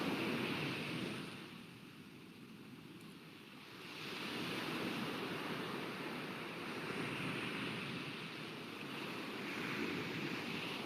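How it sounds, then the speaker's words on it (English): Ocean waves surging and washing in a steady broad roar, with wind noise buffeting the microphone, continuous and fairly soft throughout with no speech. "Listen to your music and the sound of the waves."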